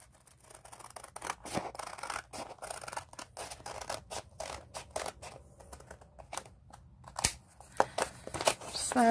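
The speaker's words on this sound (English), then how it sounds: "So I'm just going to cut these out real quick." Scissors snip paper cut-outs for a spring journal, a quick run of crisp cuts and rustling paper close to the microphone, steady and busy throughout with occasional scrapes.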